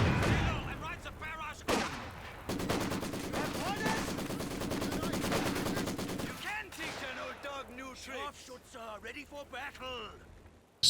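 Bursts of machine-gun fire in Company of Heroes 2, a long rapid rattling volley in the middle framed by shorter bursts, with someone commentating over the battle throughout.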